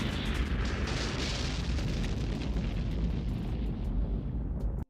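Film explosion from Mad Max 2 (1981), a dense continuous roaring blast with crackling debris that fills the whole stretch at high loudness before cutting off abruptly at the end.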